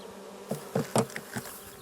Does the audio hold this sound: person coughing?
no